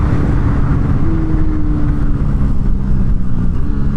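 A KTM RC390 motorcycle engine droning loud and steady on a race track, with one rising rev partway through and constant wind and road roar throughout.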